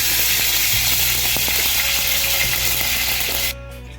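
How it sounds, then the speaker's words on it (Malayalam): Oil hisses and sizzles loudly and steadily in a hot pan heated for frying boondi for laddu, then drops sharply to a quieter crackle near the end. "ചട്ടി ചൂടായിട്ട് വന്നിട്ടുണ്ട്. നമുക്ക് ബൂന്തി തയ്യാറാക്കാൻ വേണ്ടിയിട്ടുള്ള ഓയിൽ ഒഴിച്ച് കൊടുക്കാം."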